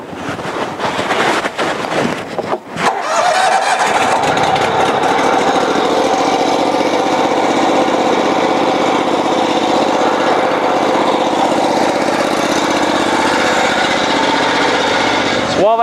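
The engine of a cold water jetter is started after a few rough attempts, then catches and runs at a steady, loud, buzzing idle, with some wind noise over the microphone.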